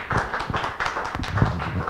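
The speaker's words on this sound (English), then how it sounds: "A round of applause for Dr." Audience applause welcoming Dr. Wing Tai Leung before his talk: a dense, steady patter of many hands clapping at a moderate level, with a bit of faint voice mixed in.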